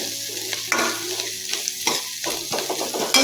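Onions, green chillies and ginger fry in a pan for a Punjabi-style pumpkin curry, a bright, close sizzle broken by repeated scraping stirs.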